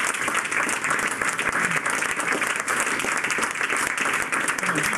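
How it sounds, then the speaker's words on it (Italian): Dense, continuous applause from an audience at a public assembly with the mayor in Belluno, loud and close, with scattered voices mixed into the clapping. "del sindaco Jacopo Massaro, molto applaudito, molto applaudito"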